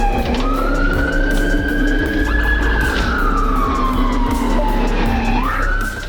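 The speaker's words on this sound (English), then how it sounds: "Instead of pulling over when the officer activated his siren" A police car siren wails loud and close during a high-speed chase through downtown Atlanta, its tone sweeping slowly up and down over a steady roar of engine and road noise.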